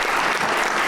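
An audience at a national lawyers' convention panel on economic law and national security claps for the moderator, a dense, steady burst of applause that lasts under a second with no voices over it.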